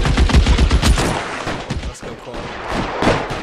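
Rapid bursts of gunfire in the 1940s Los Angeles crime game LA Noire, a fast string of sharp shots at the start trailing into scattered louder reports, with a voice briefly speaking in between.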